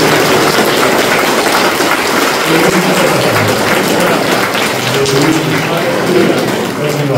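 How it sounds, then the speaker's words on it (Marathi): Loud, dense clapping from a church congregation during Marathi-language worship, a steady wash of many hands sustained throughout without pause. "टाळ्या वाजवत एक जोरदार टाळ्या येतील"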